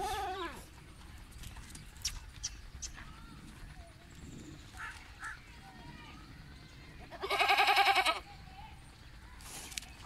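Goats bleating at a goat sale, with several short calls scattered across the recording and one louder, longer bleat near the middle, set against faint crowd noise and voices.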